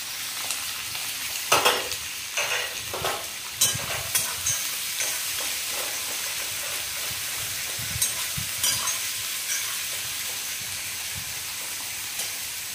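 Onions fry in hot oil with a steady, loud sizzle, broken by occasional stirring scrapes and clinks.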